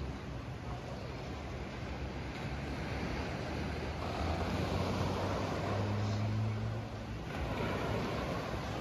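Morning ambience at Pantai Anak Air beach: a steady broadband wash of surf and wind runs throughout with no talking, holding a fairly even level and swelling slightly midway, with a faint low hum underneath.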